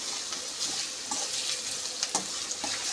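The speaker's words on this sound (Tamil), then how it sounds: "இப்போ வெங்காயம் நல்லா வதக்கணுங்க." Large onions sizzle and fry in a hot pan for crab curry, a steady crackling hiss with occasional scrapes of stirring, close and alone.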